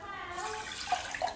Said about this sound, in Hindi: अब इसमें हम चीनी डालेंगे और 1 कप पानी डालेंगे